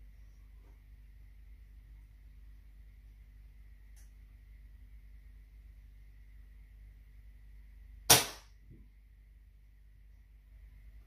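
A single sharp crack from a sub-12 ft lb air rifle shot at a goose, a brief loud report against a quiet, still background, followed by silence.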